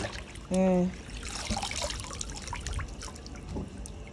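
Ugu leaves are washed in water, giving soft trickling and splashing sounds, faint and close. A short tonal squeak sounds early on, and there is a low murmur of activity.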